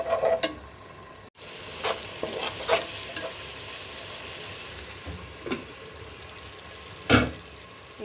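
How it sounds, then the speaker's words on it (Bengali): Khichuri spices fry in a pan alongside cooking beef, giving a soft, steady sizzle broken by intermittent scraping stirs and a few louder clinks of the spoon against the pan. "খিচুড়ির মশলাটা আমি কষিয়ে নেব ভালো করে"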